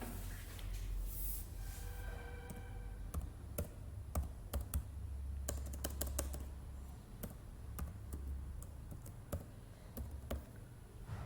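A password is typed on a computer keyboard, giving scattered faint key clicks and taps over a quiet background hum.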